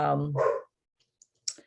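A dog barks once in the background, a short faint yelp that comes after a person's speech and a few soft clicks.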